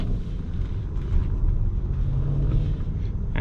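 Mercedes-Maybach S580 with a comfort-tuned V8, a low steady engine rumble under a smooth cabin drone while driving, with no talk over it.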